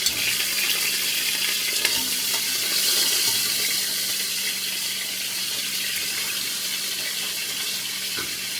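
Food sizzling in a pan on a hot stove, a steady, dense hiss of frying that runs continuously with no talking.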